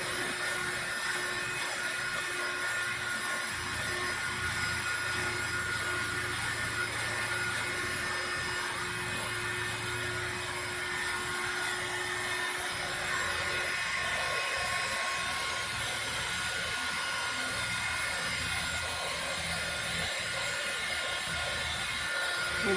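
Handheld car vacuum cleaner running continuously inside a car, a loud steady whine and rushing airflow with faint rattles of debris and small shifts as it moves, no talk.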